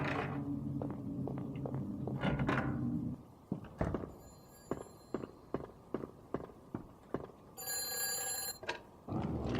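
A telephone rings in short electronic bursts amid game sounds from the Silent Hill: Alchemilla demo, with heavy thudding footsteps in between.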